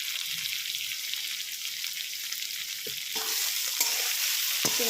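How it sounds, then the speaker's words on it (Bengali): Vegetables with green chilli, okra, onion and potato, seasoned with turmeric and salt, sizzle steadily in a frying pan while being stirred, a continuous hiss with a few louder scrapes and clinks near the end. "একটু নাড়িয়ে নিলাম একটু।"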